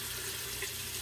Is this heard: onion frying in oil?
no